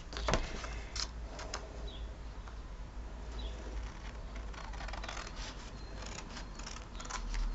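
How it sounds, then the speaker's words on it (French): Scissors cutting paper flaps on each side up to the middle fold, a few quiet, close snips scattered over a soft background hiss. "Je coupe mes rabats de chaque côté jusqu'au pli du milieu."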